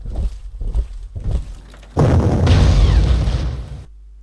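A few muffled thumps lead into a heavy artillery explosion in the Panzer Corps World War II strategy game, a loud booming blast that rolls on for about two seconds before cutting off abruptly.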